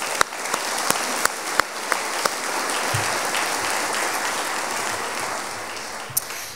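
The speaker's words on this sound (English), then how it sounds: "Let's give them a round of applause." Applause from an audience at a scholarship reception fills the room steadily, a dense wash of clapping with a few sharp, louder claps standing out near the microphone.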